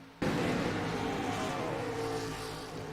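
Race cars roar down the front stretch of an oval during a racing event, a loud sustained engine drone that surges in abruptly and holds steady, fading only slightly, with no talk.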